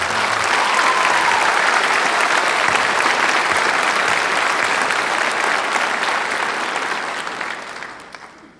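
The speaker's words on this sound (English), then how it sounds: "I don't think they get their round of applause that they truly deserve" Audience applause for teachers at a school honors night: dense, steady clapping from a large crowd, sustained loudly for several seconds before tapering off at the end.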